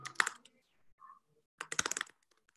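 Typing an email address on a computer keyboard, with two short bursts of close, quick key clicks separated by a quiet gap and a faint tone.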